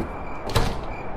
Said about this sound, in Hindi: घर के सारे खिड़की दरवाजे बंद किए